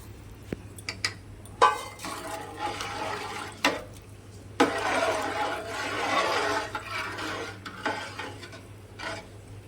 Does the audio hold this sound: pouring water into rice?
yes